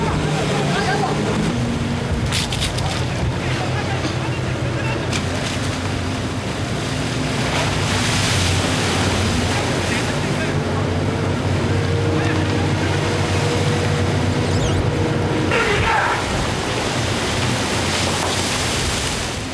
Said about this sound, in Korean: 눈보라가 엄습해왔다